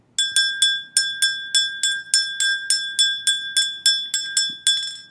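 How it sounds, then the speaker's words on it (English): An old hand bell, kept in one family for generations, rings in a steady rhythm of about a dozen bright, loud strokes. Each chime decays quickly before the next, with no talking. "Most of you know this bell has been in my family for generations."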